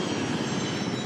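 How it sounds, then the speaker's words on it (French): Army helicopters at Orly airport give a loud, steady roar of engine and rotor noise that holds without a break and fills the air. "ce ne sont plus les avions de ligne qui atterrissent, mais les hélicoptères de l'armée."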